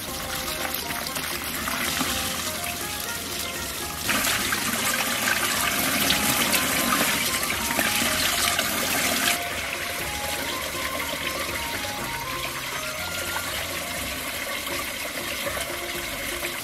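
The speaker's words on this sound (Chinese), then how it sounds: "再给它冲洗一下。" Running water from a tap pours steadily over pieces of blanched 20-pound alligator snapping turtle being rinsed, a continuous splashing gush that grows louder in the middle stretch before easing back.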